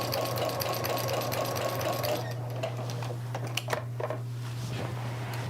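A sewing machine with a walking foot stitches binding onto a quilt, a steady close mechanical whir and hum running throughout before easing off into a few faint clicks and handling noises near the end.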